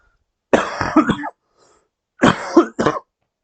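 Two bursts of coughing, each a few rough hacks in quick succession, close and loud with silence between.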